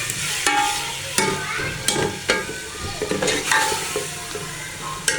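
Chopped potatoes fry in a pan with a constant sizzle, broken by repeated sharp scrapes and clinks of a spoon stirring against the metal at an uneven rhythm.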